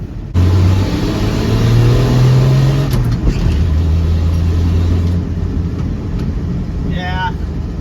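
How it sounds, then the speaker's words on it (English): A 1967 Dodge van's slant-six engine revs hard during a burnout in a yard. It makes a loud, close roar with rising and falling pitch and a brief high chirp near the end. "The slant's so angry, it's just burning a hole in my yard."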